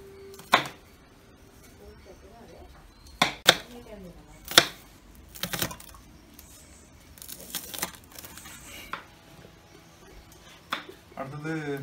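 Onions are chopped on a board in a Sri Lankan family kitchen in Ella, with sharp, irregular knife strikes spaced a second or two apart over quiet background noise.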